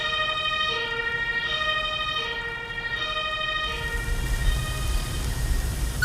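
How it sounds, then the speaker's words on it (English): Wailing ambulance siren in an emergency-services video game, sweeping through repeated rising and falling tones over a steady engine rumble that thickens in the last couple of seconds. "Send the ambulance back to finish the objective."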